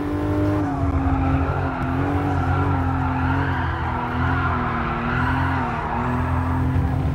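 A Toyota Supra drifting in Gran Turismo Sport, with a loud, sustained engine note and tire squeal that wavers in pitch as the car slides, close and continuous throughout.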